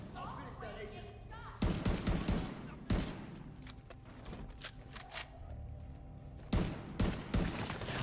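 Bursts of automatic gunfire from The Division 2, a multiplayer shooter, come in several sharp volleys with quieter gaps between them, loud and close against a steady game background.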